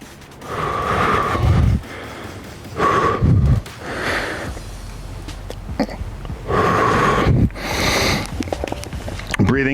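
Heavy, rhythmic breaths during bodyweight squats, with sharp audible exhales on the way up repeating several times at close range, alongside a voice talking.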